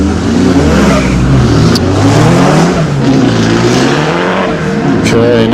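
A Nissan 200SX race car driven by Anthony Norris at the Legend of the Lakes hillclimb in Australia, its engine roaring loud and close, revving and shifting pitch continuously without a break.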